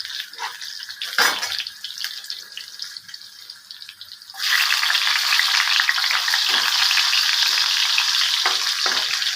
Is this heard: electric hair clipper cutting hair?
no